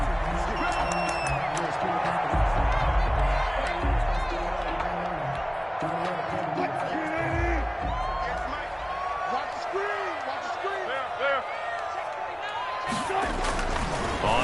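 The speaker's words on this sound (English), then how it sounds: "This crowd is ready as their guys get set to match up between the Arizona Cardinals and the Carolina Panthers." Steady stadium crowd roar from an NFL video game, Arizona Cardinals against Carolina Panthers, a continuous wash of cheering and murmur with scattered whoops and claps, a commentator talking throughout.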